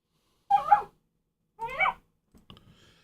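A dog gives two short, loud whining yelps a second apart, followed by faint scuffling sounds, with no talking.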